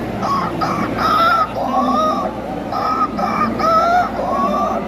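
A human voice imitates a rooster crowing, repeating the drawn-out call several times in quick succession, loud and close.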